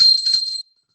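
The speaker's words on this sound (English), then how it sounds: "And please ring the bell as we do so." A small hand bell rung during puja worship to Devi Parashakti gives a bright, sustained metallic ring for about half a second, then stops abruptly into silence.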